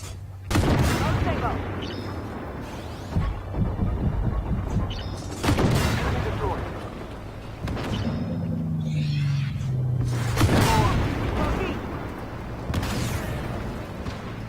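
Tank cannon shots from an AMX-10RCR in the video game Armored Warfare, several heavy booms spaced a few seconds apart with rumbling tails over engine drone, loud and close, with someone talking at times.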